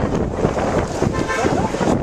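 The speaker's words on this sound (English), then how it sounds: "It's pretty windy and it's not at all warm, in my opinion." Wind buffets the microphone in a steady, rough rumble on a cold Stockholm marathon day, keeping going for the whole stretch without easing.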